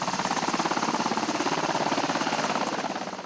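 A helicopter running close by during Army National Guard Pathfinder training, with loud, steady, rapid rotor chopping that fades slightly toward the end.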